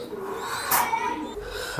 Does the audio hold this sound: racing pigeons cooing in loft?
yes